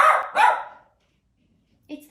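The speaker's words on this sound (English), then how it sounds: "Hang on, Henry's going to bark, the postman's here" A pet dog barks at a postwoman arriving at the door: two loud close barks in quick succession, then quiet, and a further short bark or voice at the end.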